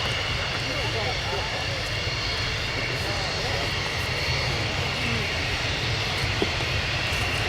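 F-16 fighter jets taxi along an airfield taxiway at RIAT 2024, a steady loud engine roar and whine filling the whole clip without letting up.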